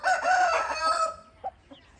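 An Aseel fighting hen broods a batch of chicks alongside a Palakkad country hen. A loud, close crowing-like call stretches for over a second, then trails off into a couple of soft short clucks.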